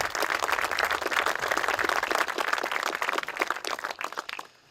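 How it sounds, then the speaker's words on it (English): Outdoor crowd at the La Pata Gap Connector opening ceremony clapping warmly, a dense burst of applause that tapers off over a few seconds. "I'd just like to have one warm round of applause for everyone who made this day happen."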